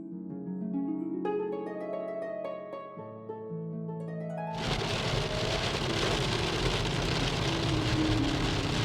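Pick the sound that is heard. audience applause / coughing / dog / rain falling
rain falling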